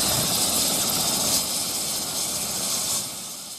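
A helicopter flying over a landslide area in Luwu, Indonesia: loud, continuous rotor and engine roar, steady and close, fading slightly at the end.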